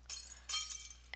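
Glass smashing in the Happy Wheels video game: two quick crashes with brittle clinking debris, followed by a sharp final clink, all close and bright within about a second.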